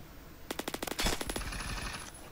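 Gunfire in the shooter game Phantom Forces: a quick rhythmic burst of about ten crisp automatic shots, then a heavier shot and a fading echo, fairly quiet and with no talk.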